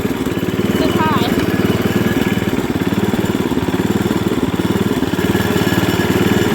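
Sears ST16 garden tractor engine running loud and steady in third gear high, a continuous close throbbing drone with no pauses.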